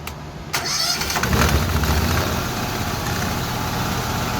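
A Honda GX690 engine with a newly installed camshaft and gears cranks and catches after a brief quiet moment, then settles into a steady, close, even-running idle.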